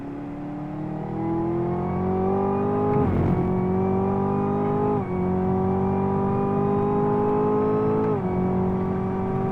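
Chevy Camaro engine revving hard around a track in Dubai, a loud in-car drone that climbs in pitch through repeated gear pulls, broken by brief shift dips, with no talk.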